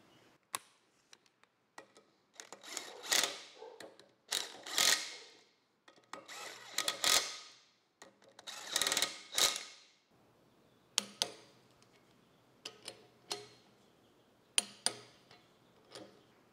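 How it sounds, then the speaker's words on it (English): Bolting down an axle part on an Allis Chalmers D17 tractor: a wrench ratchets in bursts of rapid ticking clicks, with short pauses between runs and a few isolated metallic taps near the end, close and fairly quiet. "We'll go ahead and bolt this down."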